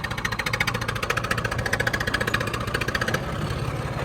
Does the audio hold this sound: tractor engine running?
yes